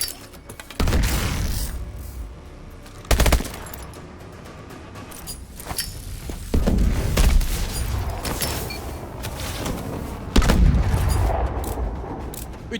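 Grenade blasts and gunfire in a training exercise in Call of Duty Advanced Warfare, with several sharp, loud explosions and bursts of shots spaced irregularly over a rumbling background.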